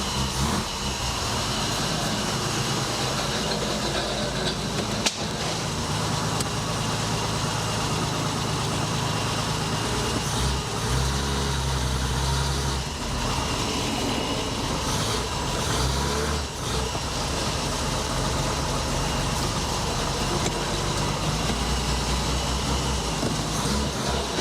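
An old BMW, left in a barn for decades, drives slowly, its engine running with a steady, rough low rumble and broadband rattle and noise that stays loud and continuous throughout.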